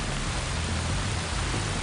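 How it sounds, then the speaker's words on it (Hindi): A roaring waterfall on a jungle river pours in a steady, dense wash of broadband noise with a deep low rumble underneath, loud and unbroken throughout. "झरने के शोर में आवाज सुनाई नहीं देती।"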